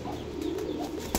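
Pigeons on a rooftop give a soft, low cooing for about a second, ending in a brief burst of wing flaps, fairly close, with no talk.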